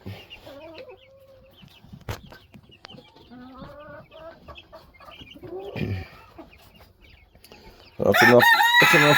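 A backyard flock of hens clucks in short, scattered calls at close range, then a rooster crows loudly and abruptly near the end, drowning out the hens.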